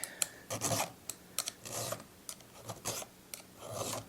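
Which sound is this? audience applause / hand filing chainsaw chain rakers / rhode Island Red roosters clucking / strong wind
hand filing chainsaw chain rakers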